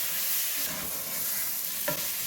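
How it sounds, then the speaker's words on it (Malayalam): Chopped tomato being stirred into a masala in a pressure cooker for egg biryani, a soft continuous scraping and faint sizzle with one sharper clink near the end. "ആ ടൊമാറ്റോ ഈ മസാലയിലേക്ക് ഇട്ടിട്ട് എല്ലാം കൂട്ടിയിട്ടൊന്ന് ഇളക്കി കൊടുക്കാം."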